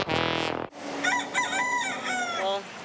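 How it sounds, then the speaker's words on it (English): At a community garden, a rooster crows loudly up close, followed by chickens clucking and squawking in a rising, busy chorus. "the chickens come here to the Woven Roots Community Garden to lay their eggs"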